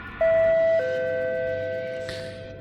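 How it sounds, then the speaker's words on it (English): A two-tone ding-dong doorbell rings in Kamaitachi no Yoru, a clear high chime followed by a lower tone that rings out and slowly decays, heard alone. "We heard the sound of the doorbell once more."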